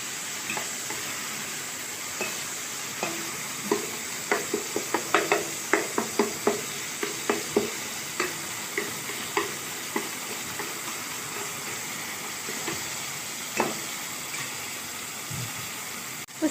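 Tomatoes sautéing with salt in a pan for a kuzhambu, giving a steady low sizzle with repeated clicks and scrapes of stirring, loudest in the middle and easing off toward the end.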